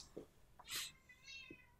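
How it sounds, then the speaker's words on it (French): A cat meows loudly nearby, a few short yowls and cries spread over two seconds in an otherwise quiet room. "Ça gueule le chat."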